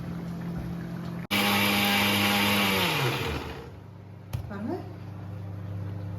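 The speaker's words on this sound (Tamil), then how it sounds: "இந்த மாதிரி ஒரு 2 துண்டு தேங்காவும் கொஞ்சம் சோம்பும் விட்டு அரைச்சி எடுத்துக்கலாம்." Mixer grinder whirring loudly as it grinds coconut pieces and fennel seeds for a spicy chicken gravy, starting abruptly, running for about two seconds, then winding down, with someone talking before and after.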